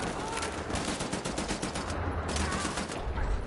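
Rapid machine gun fire in Wolfenstein: The New Order on PS4, a fast and loud stream of shots with brief pauses, layered with other game sounds.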